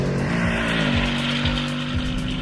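A naturally aspirated Ford Mustang GT engine roars loud and near on a race track, holding a steady drone with a few quick pitch dips as it shifts.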